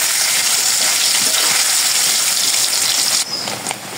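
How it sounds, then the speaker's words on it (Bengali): Paneer cubes frying in hot oil in a home kitchen, a loud, dense, continuous close-up sizzle that dips briefly near the end before resuming. "এখন পনিরগুলো ভেজে নেব"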